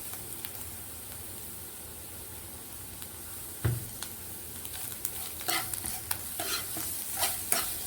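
Watermelon rind halwa cooks in a pan, with a steady soft sizzle under repeated scraping stir strokes that grow busier toward the end, plus one louder knock of the spoon.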